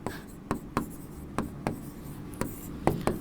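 Pen on paper taps and scratches in short, irregular strokes while notes are written during a chemistry lesson, quiet and close.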